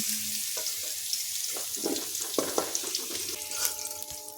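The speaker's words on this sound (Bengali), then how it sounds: "গাজরগুলো এখন খুব ভালো করে ভেজে নেব।" Carrots seasoned with salt and turmeric sizzle steadily in hot oil, with a soft continuous crackle broken by a few scraping stirs and clatters, close and moderately loud.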